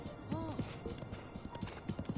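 Rhythmic hoof clip-clops from a horse in the video game The Legend of Zelda: Breath of the Wild, fairly close, with a brief whinny-like tone early on and faint voices underneath.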